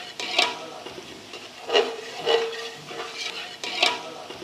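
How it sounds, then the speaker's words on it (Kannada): Garam masala for a naati chicken biryani frying in oil, stirred with a spoon: soft rhythmic scrapes and light sizzling at a low, close level, with no voices. "ಈಗ ಇದು 1 ಸ್ಪೂನ್ ಹಾಕಿ ಇದ್ರ ಜೊತೆಗೆ ಫ್ರೈ ಮಾಡೋದು."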